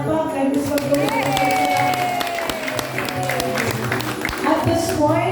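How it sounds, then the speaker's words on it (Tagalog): Applause from an audience at a Christmas party and recollection gathering in Davao, sustained clapping from a crowd with voices talking over it. "Mas kusog na palakpak kay Ms. Pagdawin."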